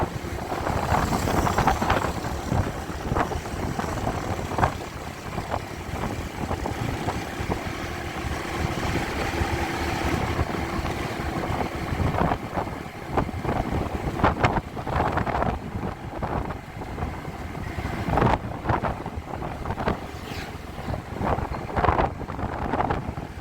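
Strong wind buffets the microphone during a motorbike ride along Malioboro, a loud continuous roaring rush with gusty surges and bursts throughout, masking other sounds.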